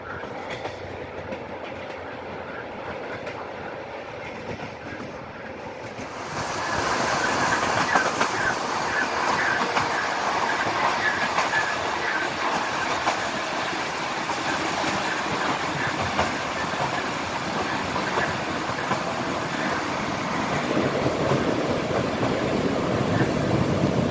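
A passenger train from Pécs, hauled by a blue Bz railcar, pulls into Barcs station at the end of its route; a quiet platform gives way to a loud, sustained rumble and clatter of wheels.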